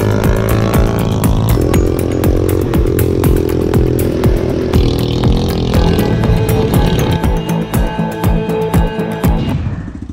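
A small 125cc Harley-Davidson-style motorcycle engine runs loud and close with a rapid, rattling beat, its pitch shifting up before it cuts off at the end.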